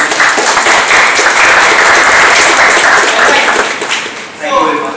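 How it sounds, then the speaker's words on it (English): A conference audience applauds loudly and steadily for several seconds, the clapping fading toward the end as a voice begins to speak. "Can we have a round of applause for Karan?"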